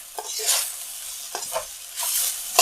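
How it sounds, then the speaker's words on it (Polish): Scraping and stirring rice with ketchup and garlic in a frying pan for omurice, a soft sizzle underneath, several short spoon scrapes in an uneven rhythm, close by, no talking. "Teraz to smażymy i mieszamy aż do wymieszania składników"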